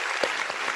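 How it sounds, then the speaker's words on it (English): A brief burst of audience clapping added as a sound effect, with a dense, even patter that lasts under a second. "get the audience claps in there."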